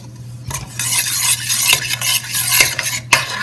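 A utensil stirs ground spices into yogurt in a bowl for chicken biryani, making close, repeated scraping and clinking strokes with no voices.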